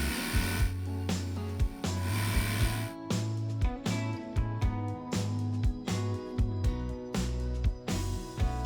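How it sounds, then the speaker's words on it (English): Loud mechanical grinding and thumping of a geotechnical drilling rig boring into the ground, with regular percussive knocks and a low droning motor running steadily close by. "Field geotech drilling"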